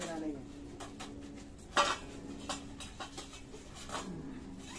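A puppies' food plate clatters with several faint scattered clinks and one sharper knock as they finish eating, alongside soft background chatter and distant bird calls.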